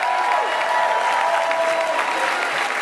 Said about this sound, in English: Look around and clap.